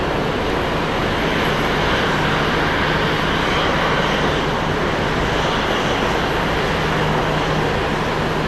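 Small airplane arriving at Sky Harbor International Airport, a loud, continuous broadband engine roar that stays steady throughout.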